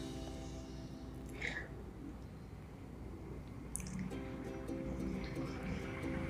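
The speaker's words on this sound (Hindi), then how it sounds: "अब मैं इसमें 2 कप पानी डाल रही हूँ।" Water splashes and trickles into a pot of sambhar vegetables mixed with spices, a soft steady liquid pouring sound.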